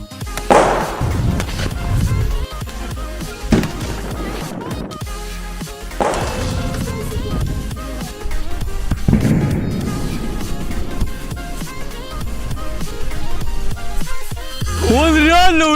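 Corsair-12 firecrackers exploding in a car, heard as several loud, booming blasts spaced a few seconds apart with crackling debris and rumble between, ending in a rising whistle.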